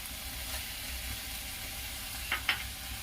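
Masala with tomato and turmeric fries in a pan, giving a steady, soft sizzle throughout, with two quick scraping stirs of a spoon near the end.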